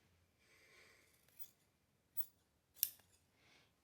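Scissors snip through the fabric ends of a sewn tie in a few separate cuts, crisp and close, with quiet rustling of cloth between and no talking.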